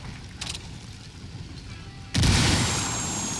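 A frag grenade goes off in the Ghost Recon Wildlands shooter game, landing as a sudden loud blast midway that settles into a sustained rumbling roar after a quieter stretch of game ambience.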